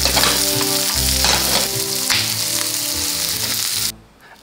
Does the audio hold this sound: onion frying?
yes